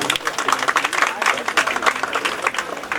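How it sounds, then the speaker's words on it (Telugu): Dense, continuous applause from an audience at a public local event in Nizamabad, many hands clapping steadily and fairly close throughout with crowd noise mixed in. "ఈ సందర్భంగా అందరూ కూడా ఒక్కసారి చప్పట్లు కొట్టవలసిందిగా కోరుతాం"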